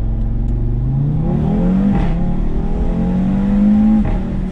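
Audi S3 (2017) pulling away hard from a standing start, its engine note rising steadily through the revs, loud and close with no talk over it.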